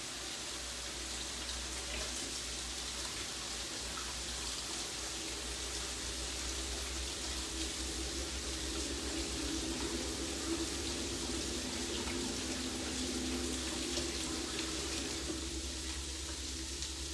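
Tap water running steadily into a kitchen sink during handwashing, a continuous close hiss and splash that holds at an even level throughout with no voices.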